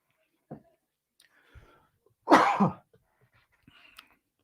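A single harsh cough bursts out near the middle, surrounded by faint breaths and small mouth sounds in an otherwise quiet space.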